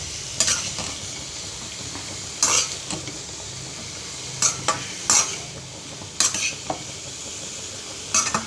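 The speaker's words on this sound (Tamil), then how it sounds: "ஃப்ரை பண்ணிக்கலாம். வெயிட் பண்ணுங்கள், நான் கிளறிடுறேன்." Food frying in a pan is stirred with a utensil, giving sharp scraping clacks at irregular intervals over a steady sizzle, with no talking.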